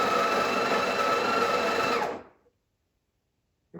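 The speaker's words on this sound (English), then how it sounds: "It also feels like it's grinding faster than the Impress." A Breville Barista Pro espresso machine grinds coffee beans at grind size 10, a loud, close, even motor whine that runs for about two seconds and then cuts off into silence.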